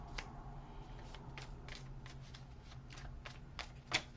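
Message cards being drawn and shuffled from a tarot-style deck, a soft, quiet run of papery flicks and snaps in a loose rhythm, close by, ending with one sharper card slap.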